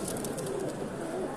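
Pigeons at a pigeon show in Wrocław coo in soft, low, repeated rolling calls over a busy indoor hum of many birds, moderately close and without speech.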